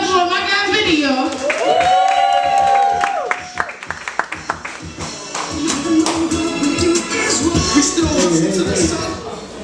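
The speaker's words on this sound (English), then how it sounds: "So I need y'all to clap it up for my guy Vinny, y'all." Comedy show audience clapping and cheering, with a voice talking and whooping over it at the start, then a scatter of distinct claps and crowd noise continuing fairly close and loud.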